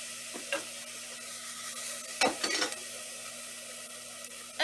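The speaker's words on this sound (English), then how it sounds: "You can go ahead and give your onion a little stir just to get it coated with that oil" Chopped onion is stirred in hot oil in a pan: a low steady sizzle with a few scraping utensil strokes and clinks, one brief cluster near the middle, close and clear with no talking.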